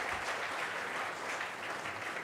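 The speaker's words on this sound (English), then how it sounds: "he deserves a big round of applause" Steady applause from an audience, a dense wash of clapping throughout, moderately distant.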